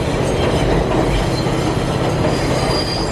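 A New York subway train passing close by, a loud continuous roar of rolling wheels with rumbling undertone and faint squealing from the rails, steady throughout.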